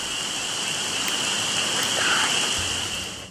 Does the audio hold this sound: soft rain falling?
yes